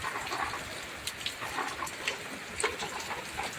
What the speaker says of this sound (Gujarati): સારો વરસાદ આવે છે અત્યારે